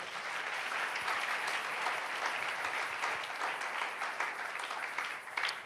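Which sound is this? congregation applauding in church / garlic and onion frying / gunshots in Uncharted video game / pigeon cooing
congregation applauding in church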